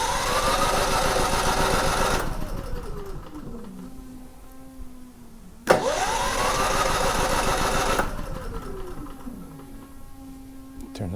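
A Firman generator engine starts twice, each time revving up quickly with a loud running drone, then winding down with a falling pitch before the next start.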